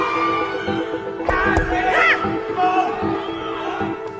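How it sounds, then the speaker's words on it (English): A stadium crowd roars loudly as weightlifter Tia Tooney attempts a gold medal lift, a continuous wall of cheering and shouts with whoops rising partway through. "The whole crowd have erupted to see Tia Tooney go for gold on this one lift."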